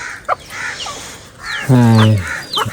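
Chickens on a farm cluck and murmur nearby while fed roti, with one loud, drawn-out squawking call standing out partway through, while a person talks in the background.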